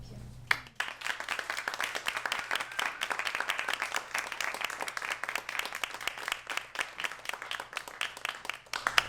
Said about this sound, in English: Get another round of applause for Alexandria Hall.